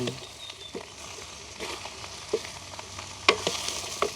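Onions frying in oil in a pan, a steady sizzle broken by a few sharp scrapes and knocks of a spoon stirring, close and moderately loud, with no talking.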